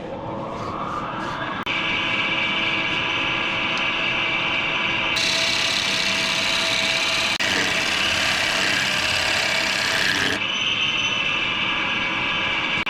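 A wood lathe turns a black walnut salad bowl with a steady motor hum, and a tool cutting the inside of the bowl adds a louder, brighter hiss partway through.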